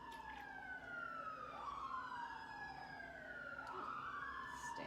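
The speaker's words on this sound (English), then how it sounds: "oh, there goes the sirens." Emergency sirens pass outside, their wailing tones sweeping up and down, fairly faint and distant over steady background noise, with no voices.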